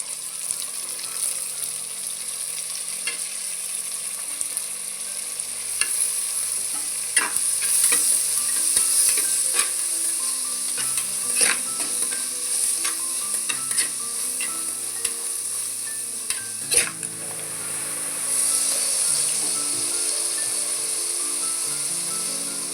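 Cinnamon, star anise, cloves, pepper and tomato frying for a mutton curry, a constant sizzle broken by repeated scraping stirs and clinks of a spoon against the pan, close by with no voices.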